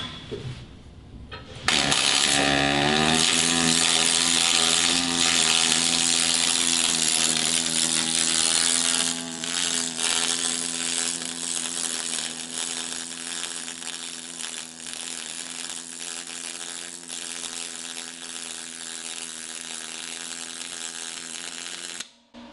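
Pulse MIG welding on thin material with a Lincoln Electric 360MP, a loud, sustained buzzing arc that starts abruptly and runs steadily for about twenty seconds before cutting off.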